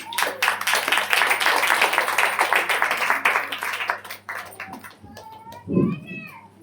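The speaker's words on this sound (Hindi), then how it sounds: "हर कोई ताली बजाते हुए स्वागत करेंगे।" A church congregation claps hands loudly and continuously for several seconds, then the applause fades and voices speak.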